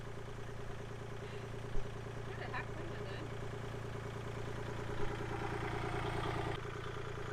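A tractor engine idles steadily while it lifts a heavy garden raised bed, a continuous low, even drone with a faint rhythmic clatter and a couple of brief knocks, fairly distant and constant.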